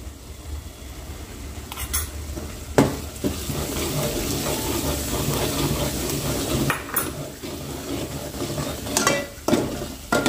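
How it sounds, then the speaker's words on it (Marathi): Black masala spices and ground paste sizzle and are stirred in hot oil, a steady frying crackle with a few sharp spoon clacks against the pan. "फक्त आपल्याला मसाले वाटणामध्ये ना छान परतवून घ्यायचे"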